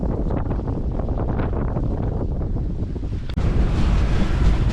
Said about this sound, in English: I turned on the instruments to see the wind speed. It is blowing a steady 23 knots.